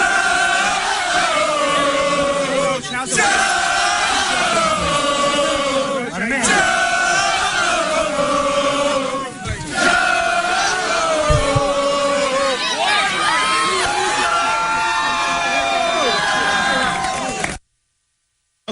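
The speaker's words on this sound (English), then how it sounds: "those are the idiot students and fans cheering" A large crowd of college football students and fans cheers and roars loudly and continuously, a dense wall of massed voices with chant-like swells, close and sustained until an abrupt cut near the end.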